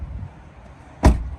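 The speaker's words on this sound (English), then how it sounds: "open up the driver's side door now." A door on a 2021 Mitsubishi Triton GSR 4x4 dual-cab ute gives one short, loud latch clunk near the end, close to the microphone, after a quiet stretch of low background rumble.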